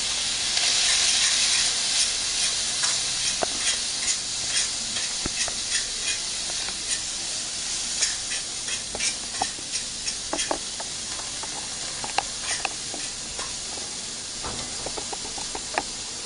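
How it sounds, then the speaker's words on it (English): Rice, vegetables and bacon sausage are stirred in a wok over high heat, giving a steady loud steamy hiss with scattered scraping clicks and knocks from the spatula and no talk. "we're just going to let the veggies and the bacon sausage all mix in a bit there over the high heat. Mark's stirring some rice"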